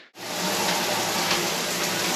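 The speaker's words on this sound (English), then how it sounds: "Standing in the shower now, yeah," A shower runs in a newly renovated bathroom, a steady, close hiss of falling water that starts abruptly and continues evenly without talk.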